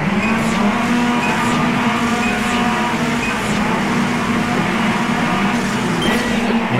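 Honda Civic touring-style race cars in the Copa Petrobras de Marcas pack, from the racing game Automobilista at Tarumã, roar together in a dense continuous engine drone with occasional tire squeal, loud and steady throughout.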